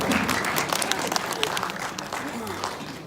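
Audience applause at a political party's new-member education session: fairly quiet, scattered clapping from a seated group, with voices mixed into it.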